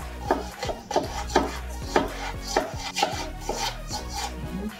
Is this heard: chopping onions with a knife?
yes